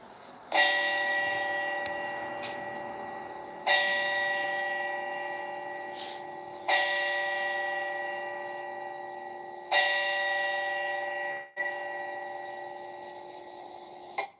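A church bell tolls four times at even intervals, each strike ringing out and decaying slowly, in an otherwise quiet setting during a memorial moment of silence for a shooting.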